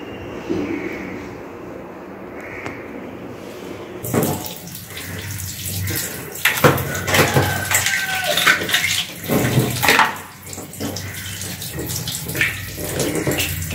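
Tap water runs over crab being washed, starting as a softer trickle and then becoming a loud, full gush with splashing and handling noises close by.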